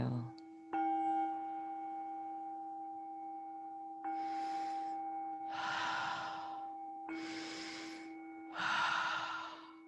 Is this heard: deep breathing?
yes